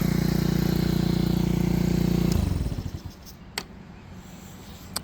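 A Honda Elite CH80 scooter engine idles with a steady, buzzing drone up close, then cuts off abruptly partway through, leaving near-silence broken by a couple of faint clicks.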